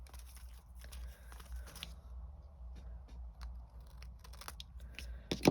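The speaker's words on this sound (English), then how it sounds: "I'm going to take my scissors and I'm going to simply angle these corners." A few quiet snips of scissors trimming paper corners, close by, spaced irregularly against a low background hum.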